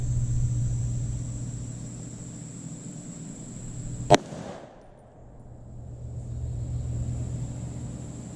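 A single sharp subsonic 300 Blackout rifle shot firing a 220gr ELD-X reload, one loud crack over a steady outdoor hum, followed by a brief fading tail.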